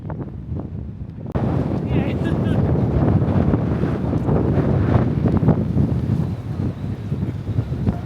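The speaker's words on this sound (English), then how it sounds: "So windy." Strong wind buffets the microphone in a loud, continuous roar that swells in after a quieter start and stays rough and gusty throughout, near Karo La Glacier in Tibet at about 5,000 meters.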